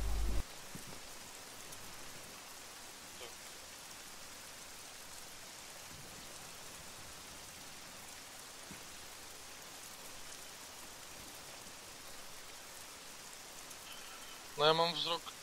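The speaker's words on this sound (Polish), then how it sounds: "Jeszcze ten deszcz." Steady rain falls in an outdoor military setting, a soft, even hiss that runs the whole time with a brief louder burst near the end.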